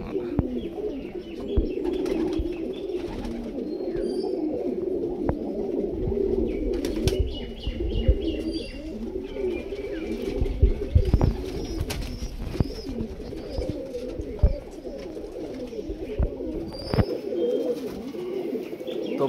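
High flyer and low flyer pigeons coo steadily and close by in Krishnagar, Nadia, their overlapping low calls running continuously with occasional wing flutters and faint chirps.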